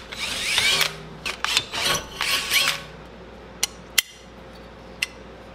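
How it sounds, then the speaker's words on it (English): Drill boring holes through a handmade motorcycle bracket for a Kawasaki KZ400 project bike, several short grinding bursts close by, followed by a few sharp isolated clicks and taps. "two holes drilled out"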